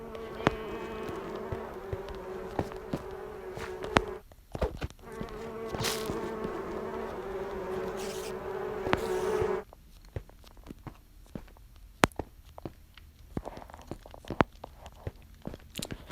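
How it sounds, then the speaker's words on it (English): A butterfly insect swarm from the Mystic Craft addon in Minecraft gives off a steady, droning buzz for about nine seconds, then breaks off into scattered faint clicks and taps. "Next we have is the butterfly, which is an insect swarm."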